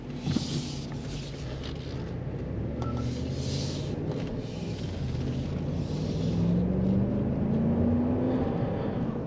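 A 2022 Jeep Wagoneer Series III with a 5.7L V8 and AWD accelerates on the road, its steady engine rumble and road noise building, and engine pitch climbing toward the end.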